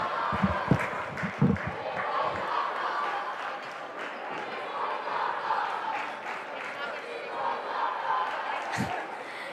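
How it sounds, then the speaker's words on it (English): Crowd at a varsity boys basketball game between North Hunterdon and Phillipsburg, a steady roar of voices that sounds like shouting and chanting, with sharper bursts near the start and a commentator talking over it. "And the crowd is shouting, "We want Soto" for Jackson Soto from the Stateliners."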